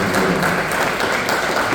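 Audience applause at a university tribute event honoring Paraguayan writers, a dense steady clapping from a crowd filling a hall.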